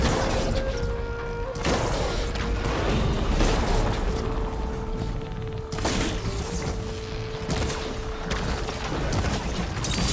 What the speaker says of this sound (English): I attack the cannon.